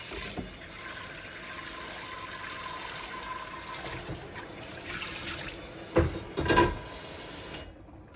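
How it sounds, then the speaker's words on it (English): Cold tap water runs steadily into a cooking pot holding boiled eggs, a constant close splashing stream with a couple of brief louder splashes near the end before it stops. "I'm going to cool this pot down a little bit with some cold water."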